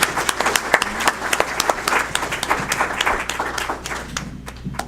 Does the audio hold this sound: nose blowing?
no